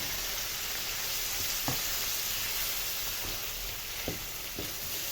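Onions cut into wedges frying in hot oil in a pan, giving a loud continuous sizzle and hiss with a few faint clicks of a utensil against the pan, no voices.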